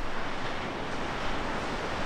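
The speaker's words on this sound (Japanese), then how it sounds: "しかも結構波もまあまああるよ。" Ocean waves and strong wind along the coast of southwestern Shikoku, a steady, loud roar of surf and wind buffeting the microphone with no clear breaks.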